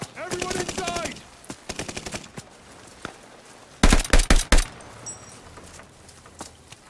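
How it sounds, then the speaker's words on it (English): Bursts of automatic gunfire from the Call of Duty Vanguard video game, with short rapid volleys early on and a louder cluster of heavy shots midway, over a low background. "I feel like I'm the only one shooting at these guys"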